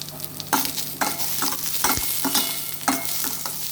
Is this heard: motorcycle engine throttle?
no